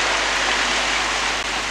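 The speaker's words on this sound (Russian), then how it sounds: "Такие фонтанчики." A small water fountain in Scotland splashes and hisses continuously in a steady, dense rush, close and fairly loud, with no voices.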